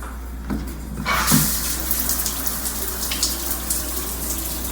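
An adjustable shower head in a Tru by Hilton hotel bathroom in Baton Rouge bursts on after a brief quiet moment and then sprays in a steady, close hiss of falling water.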